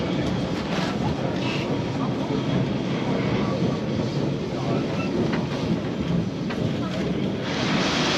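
Loud, continuous rumbling and rattling of the crowded number 28 tram moving through Lisbon, with broadband noise throughout and voices murmuring faintly beneath.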